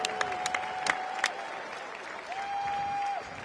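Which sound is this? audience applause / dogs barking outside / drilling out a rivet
audience applause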